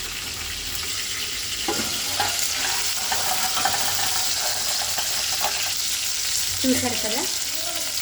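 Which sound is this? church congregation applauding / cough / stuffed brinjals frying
stuffed brinjals frying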